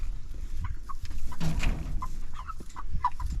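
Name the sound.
chickens clucking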